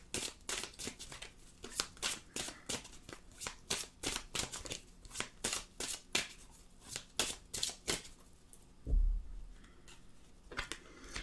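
A deck of tarot cards shuffled by hand at close range, with repeated crisp riffling bursts in a steady rhythm, a soft thump partway through, then a few final riffles.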